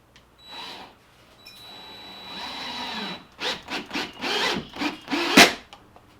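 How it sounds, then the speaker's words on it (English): A power drill whirs in several short bursts, driving a screw into wood while installing a boat rod holder, with the motor pitch rising and falling between pulses. "Put it in the chuck of the drill, tighten it up, and we're going to put the first screw in."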